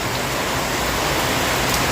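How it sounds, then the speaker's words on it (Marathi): Heavy rain with wind makes a loud, dense, continuous roar close by, with no pauses and no voices. "हवा पण आहे आणि पाऊस पण आहे हे बघा खूप जोराचा आलाय ना चांगलाच आला हो पाऊस"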